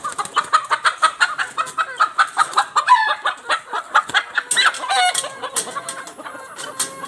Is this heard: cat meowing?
no